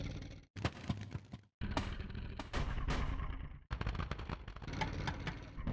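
Loud, sharp popping bursts of exhaust backfire from a drift car crackle in rapid clusters, with brief silent gaps between volleys, close and harsh, at a drift festival.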